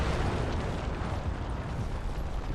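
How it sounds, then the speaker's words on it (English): Battleship shelling in the WWII strategy game Men of War during a 1939 Poland defense mission, a loud, continuous rumbling barrage of explosions and booming impacts with no talk. "Oh, that battleship is firing off again."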